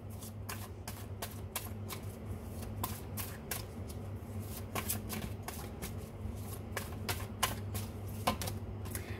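A tarot deck is shuffled steadily for several seconds, its card riffles and flicks repeating in quick bursts over a constant low hum, with no talking.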